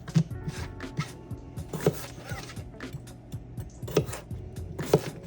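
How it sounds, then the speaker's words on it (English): A knife cuts up potatoes for a breakfast dish of broccoli and potatoes, giving a few sharp, close chopping knocks on a board, spaced roughly a second apart over faint kitchen background. "we're gonna take these potatoes and we're gonna cut them up"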